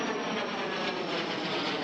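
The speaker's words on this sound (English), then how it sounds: "we're going to pull the plane in here" A small airplane engine drones steadily while the plane taxis, a continuous broadband hum at moderate level with no talk.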